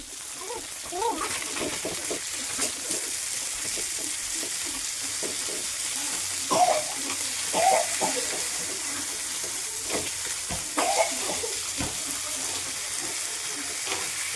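Fish frying in a pan, a soft continuous sizzle with scattered crackles and occasional stirring clatter, close and fairly quiet, with faint voices at times.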